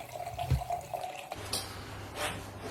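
Wine poured into a glass alongside a salt-baked sea bream dinner: soft gurgling liquid stream with a faint glassy ring, close and brief over low background hum, no talking.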